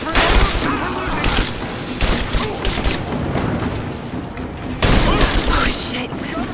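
Intense gunfire in Rise of the Tomb Raider, rapid bursts of automatic fire and heavy booms in loud waves, with a strong surge near the end amid the chaos of a firefight.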